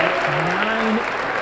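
A crowd in a gymnastics meet arena applauds, a loud dense wash of clapping filling the whole moment while an announcer's voice carries over the top.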